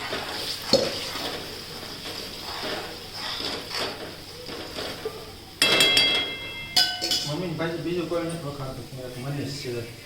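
Onion and tomato gravy sizzles in a hot tempering for homemade pav bhaji while a spoon stirs and clinks against the pan, with a person talking over the steady frying.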